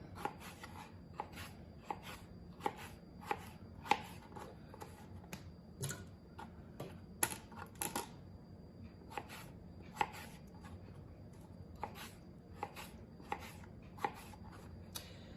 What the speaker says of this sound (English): Most of the work in a stew is just preparing your food, chopping it up.